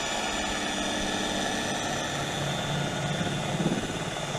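An electric buffer on its low setting polishes a boat's fiberglass gel coat with light pressure. Its motor gives a steady, close whirring drone that runs without a break and has no talk over it.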